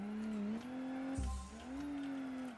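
A car drifting in BeamNG.drive gives a steady, loud engine drone that dips and rises in pitch, with a brief low thump partway through.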